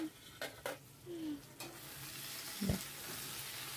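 Food frying in a pan in a home kitchen, with a soft sizzle and a few scraping stirs and clinks of a utensil against the pan, quiet and close.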